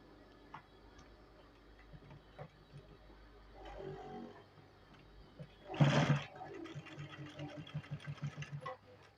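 A sewing machine stitches a trouser pocket in short, soft runs of rapid ticking, with fabric handling and a louder rustling burst midway; quiet overall, without talk.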